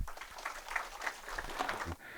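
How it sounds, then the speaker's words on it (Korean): Audience applause at a tax accountant exam strategy seminar, a steady patter of clapping from a room full of people that fills the short stretch and thins out at the end. "박수 맞아주시죠."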